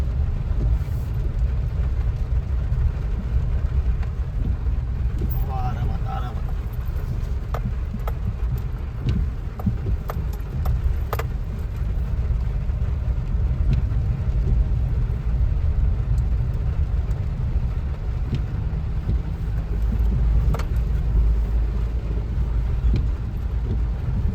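A car drives along a badly potholed road, its engine and tyre rumble a steady low drone throughout, with occasional light knocks from the cabin and no talk.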